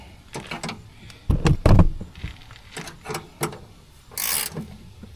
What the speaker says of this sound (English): 10 mil wrench.